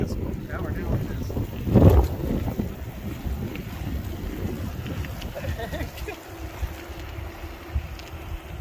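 Gusty wind buffets the microphone while riding an e-bike scooter outdoors on a very windy day, a steady low roar with one stronger blast near the two-second mark.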